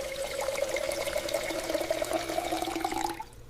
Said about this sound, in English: I fill the kettle with water.